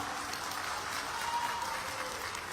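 An audience at a chief minister's public development event in Burhanpur bursts into steady clapping, a dense and continuous but somewhat distant wash of applause.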